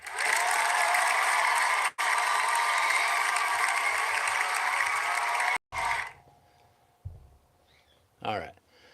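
An audience cheers for Arkansas with loud, sustained crowd noise and applause, dense and continuous for about five and a half seconds before cutting off abruptly into quieter sounds.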